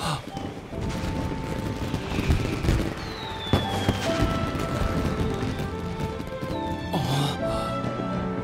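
Repeated booming fireworks bursts with crackling and whistling streaks from the video game Genshin Impact, dense and continuous, rolling on over several seconds at fairly close range.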